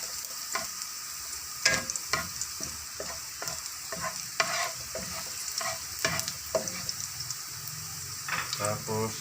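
Garlic frying in a pan for pancit gives a steady sizzle. A spatula stirs and scrapes against the pan in repeated sharp knocks. Faint speech comes in now and then.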